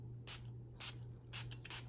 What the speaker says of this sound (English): I'm going to try to spray the sides a little bit more